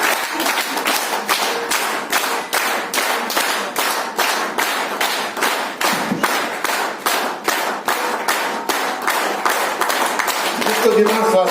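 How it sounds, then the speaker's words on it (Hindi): An audience claps loudly in a strong, regular unison rhythm, about a dozen sharp beats spaced evenly and sustained without pause at a business seminar. "वो ताली बजाते हैं, तो जोरदार हम ताली बजाते हैं।"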